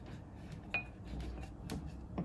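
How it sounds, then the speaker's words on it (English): Light glassy clinks as a long lime peel is tapped against a cocktail glass, a few separate bright taps spaced out over quiet room tone. "I'm gonna just tap it a bit in the glass"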